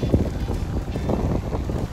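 Steady wind gusting across a sunny, hot beach, a broad low rumble buffeting the microphone continuously for the whole stretch with no voices.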